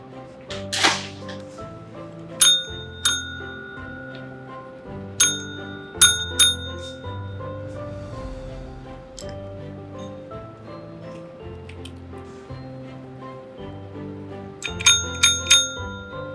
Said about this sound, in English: Olivia learned how to ring the bell in her first try.